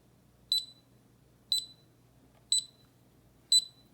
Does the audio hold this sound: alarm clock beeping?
yes